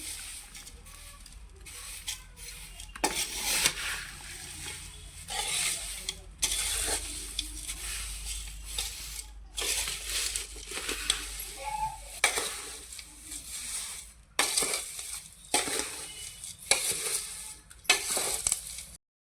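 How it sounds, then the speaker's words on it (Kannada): Paper poha is stirred into a hot tempering in a pan, giving a soft ongoing sizzle with repeated scraping and rustling strokes, fairly quiet and alone. "ಈ ಅವಲಕ್ಕಾಯಿ ಹಾಕೊಂತೀವ್ರಿ ರೀ ಹಾಕಿ ಚಲೋ ಹೊತ್ತಾಗ ಮಿಕ್ಸ್ ಮಾಡ್ತೀವ್ರಿ"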